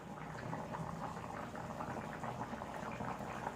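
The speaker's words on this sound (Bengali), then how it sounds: "ফুটছে" A cooking pot boils quietly with continuous close bubbling and gentle popping throughout, with no voices over it.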